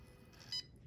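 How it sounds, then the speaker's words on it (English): A Handi Quilter Infinity longarm quilting machine's thread cutter gives one short, faint electronic beep over a low mechanical hum. "It beeped. I heard it cut there on the bottom."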